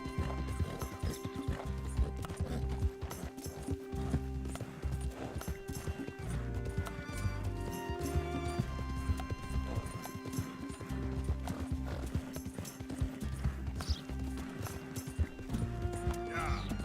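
A horse runs with steady clip-clop hoofbeats and an occasional whinny in Red Dead Redemption 2, carrying on under game music and a man's chatter throughout.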